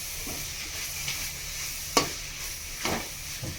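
Tomatoes sauté for a Kerala-style sardine fish curry, a steady sizzle in the pan broken by a few sharp scraping stirs of a spoon, close and with no voices.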